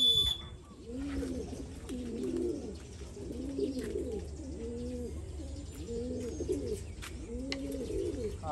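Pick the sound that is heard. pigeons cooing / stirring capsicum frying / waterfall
pigeons cooing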